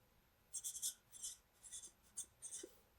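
Handwriting a statement, likely pen or marker on a surface, as a series of quiet scratchy strokes in short bursts with small gaps between, close up.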